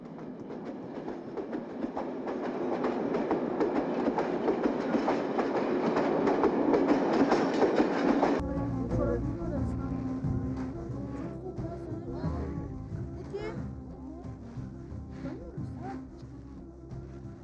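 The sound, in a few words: train passing on railway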